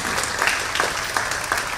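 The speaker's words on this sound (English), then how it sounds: "Let's give all those exhibitors a nice round of applause." Steady applause from a livestock show crowd, honoring junior exhibitors at a county livestock show, a dense continuous patter of hand claps lasting throughout with no talk over it.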